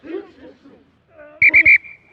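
Three sharp, loud referee whistle blasts at a rugby match, the last one trailing into a thin tone, heard after muffled voices calling out.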